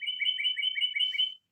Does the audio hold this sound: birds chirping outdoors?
yes